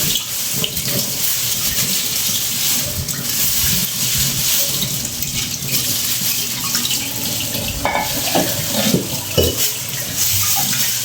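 Steady, loud water runs from a tap over a clay pot being washed, a continuous splashing rush with occasional clinks and knocks of the pot against the sink, and no talk.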